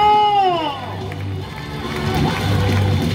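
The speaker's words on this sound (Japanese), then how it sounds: "皆さん拍手を送りましょう。" Stadium crowd at a Hanshin Tigers baseball game applauding and cheering as a continuous loud roar, opening with a falling tonal sweep before the crowd noise settles in.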